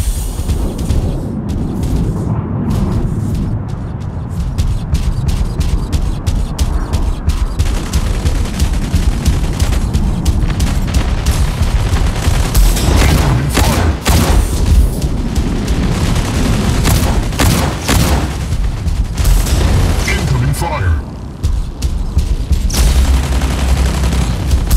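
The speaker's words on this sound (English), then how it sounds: "Incoming fire!" Dense, continuous gunfire and booming explosions in a mech battle deathmatch video game, with a loud, unbroken barrage of shots and blasts running throughout.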